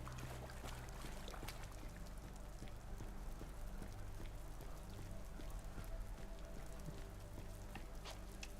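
Steady soft rain pattering on a surface, a continuous quiet wash of drops with no voices.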